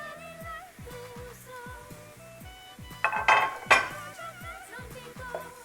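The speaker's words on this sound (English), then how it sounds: "In goes the coconut." Shredded coconut, about two cups, goes into a pan of sugar syrup and is stirred, giving soft scraping and clinking of a utensil against the pan with a couple of louder knocks midway, near and without talk.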